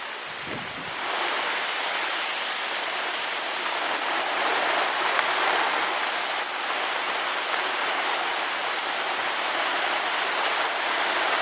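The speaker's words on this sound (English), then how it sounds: "The rain's coming down pretty good." Heavy rain from Tropical Storm Irene pours down steadily, a dense, unbroken hiss of drops striking surfaces nearby, loud and constant throughout with no voices.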